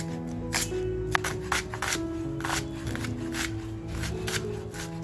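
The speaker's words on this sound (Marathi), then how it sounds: "कांदा जो घेतलाय ना हा कांदा एकदम बारीक कापून घ्यायचा आहे आपल्याला" A knife works through onion on a cutting board, a steady run of quick, close chops of an onion being minced very fine for tandoori mutton kheema, with a low hum underneath.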